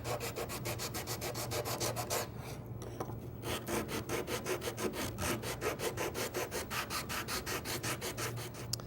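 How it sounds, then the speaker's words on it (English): Sanding block rubbed back and forth across a wooden half lap joint, producing rapid regular rasping strokes close up, with a short pause before the rhythmic scrubbing resumes steadily. "Sanding block, makes quick work of that."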